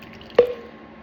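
Water from a winter-sown plant pot drips into a catch tray: a single close, distinct plop with a short liquid ring trailing off against quiet background.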